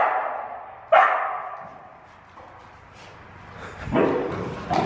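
A dog barks a few times at moderate distance on a farm where horses got loose, with sharp yips separated by quieter gaps and a louder burst near the end.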